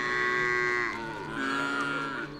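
Cattle on dry land in Laikipia, Kenya, low on water, let out a long, loud moo close by, the call wavering in pitch over about two seconds before stopping.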